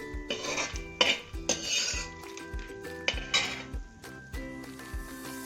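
Roasted peanuts scooped out of a pan into another vessel in a home kitchen making a Kerala poha snack, with a run of sharp metallic scrapes and clinks of a spoon against cookware, repeated in an irregular rhythm, close and clear.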